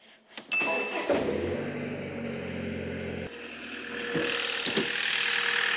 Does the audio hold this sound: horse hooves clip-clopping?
no